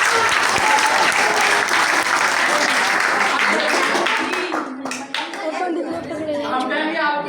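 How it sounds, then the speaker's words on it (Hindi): An audience claps loudly and steadily through most of the stretch, the applause thinning toward the end as voices come up over it. "ताली बजा दीजिए इनके लिए"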